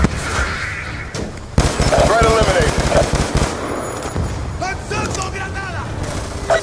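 Machine-gun fire and explosions in a Black Ops 2 campaign battle, with loud rapid bursts and mechanical clatter. Radio-style voices speak over the combat.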